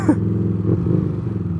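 A motorcycle engine misbehaving runs rough at low speed, a steady low rumble with uneven sputters and a brief higher rattle at the start.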